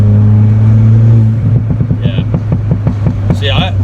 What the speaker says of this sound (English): I like the turbo noises and everything